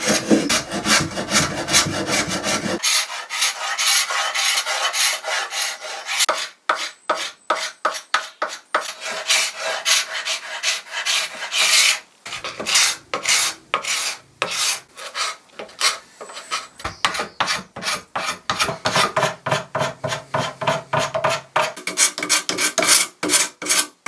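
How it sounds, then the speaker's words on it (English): Steady rasping strokes of a scraper stripping old finish from an antique wooden piano bench, continuous fast back-and-forth scraping for most of the clip with brief pauses, close and loud, no talk. "I've just been scraping this section here"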